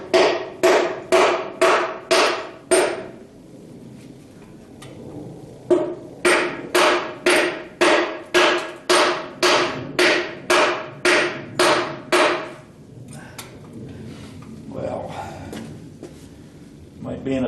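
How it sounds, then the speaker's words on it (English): Sharp, regular knocking strikes in fast runs, pausing briefly between bursts, loud and close, a hammer handle tapping metal during short block disassembly on a 1976 Corvette. "I can use the handle of the hammer"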